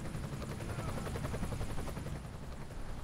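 A helicopter hovers in the Emergency 5 game during a winch rescue in Hamburg, its rotor beating in a loud, steady, dense throb that fills the whole moment close up, with no voices.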